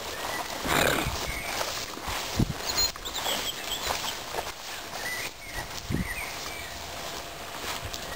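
A horse neighs and its hooves clip-clop on the ground, mid-distance, with a couple of sharp hoof or snort accents amid light rustling and no talk.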